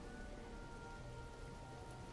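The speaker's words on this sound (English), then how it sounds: "the rain is falling again" Rain falls steadily in Mind Over Magic, a faint, even patter of drops spread evenly across the clip, soft and continuous with no other sounds.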